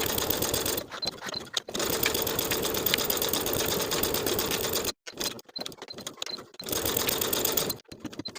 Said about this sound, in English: Then we'll top stitch around those sewn edges at a 1/4 inch seam allowance.